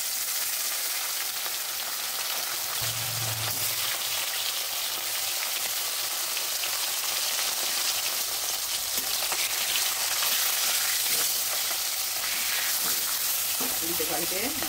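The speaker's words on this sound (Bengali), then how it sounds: "কড়াই বসিয়েছি, কড়াইতে তেল দিয়েছি, তেলও গরম হয়ে গেছে। এবার আমি এক এক করে মাছগুলো ভেজে নেব।" Tilapia fish frying in hot oil in a wok, a continuous dense sizzle and crackle throughout, close and steady, with occasional stirring clinks near the end.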